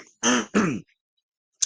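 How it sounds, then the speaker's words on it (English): A person clears their throat twice in quick, harsh bursts, close and loud, followed by a brief faint rasp after a pause. "now I'm coughing like a fiend"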